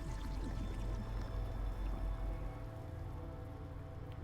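Steady rain falling in the Typoman video game, a dense continuous wash of drops that stays loud and even, easing slightly toward the end, with no voices.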